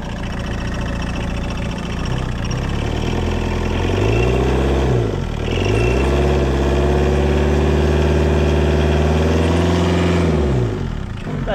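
An Opel Corsa engine idling steadily up close, a loud even hum with a few slight dips and rises in speed as it runs smoothly.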